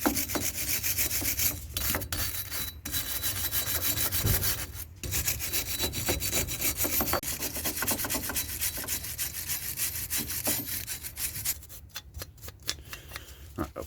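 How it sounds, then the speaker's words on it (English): A wire brush scrubs hard against a car's brake disc and hardware, a loud continuous rasping scratch with short pauses and a burst of quick strokes near the end, with no talk. "I'm just going to brush this and shut my mouth because a lot of brake dust is going to go everywhere"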